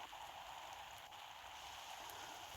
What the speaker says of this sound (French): il y a de la pluie qui passe à travers le mur